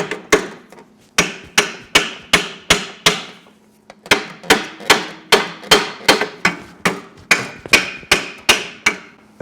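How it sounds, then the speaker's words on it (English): Steady metallic hammering on a stuck Mercedes W123 driver seat track, sharp repeated blows in an even rhythm with a short pause partway through, close and loud. "you're going to have to keep working it with a hammer."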